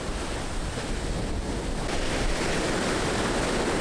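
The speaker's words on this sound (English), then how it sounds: "I hope you can hear me because there's a lot of wind." Strong wind buffets the microphone as waves break on a beach in Sardinia, making a loud, continuous roar of surf and gusts with no letup.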